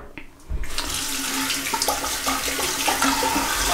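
Tap water runs into a sink while shaving soap is lathered for a wet shave, starting abruptly after a brief quiet moment and then flowing as a close, steady splashing rush with small gurgles.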